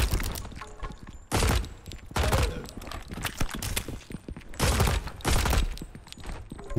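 Gunfire in the MILO demo video game, bursts of rapid shots in several clusters, loud and close, separated by brief gaps.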